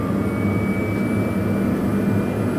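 A Pilatus PC-12NG turboprop engine starts up close by, a loud, steady roar and whine with a thin high tone running through it, and no voices.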